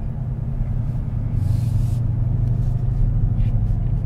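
A 2021 Dodge Charger Scat Pack with a 6.4 liter V8 idling, a deep steady low rumble that swells slightly partway through, heard alone without talk.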